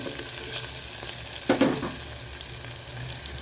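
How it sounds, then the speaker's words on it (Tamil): Onions sautéing with salt in a pan, a steady low sizzle running throughout, with a brief louder burst of stirring and frying near the middle, close and alone with no voices. "வெங்காயம் வதங்கும் போதே உப்பு போட்டுடலாம் கொஞ்சம் வதங்கட்டும்"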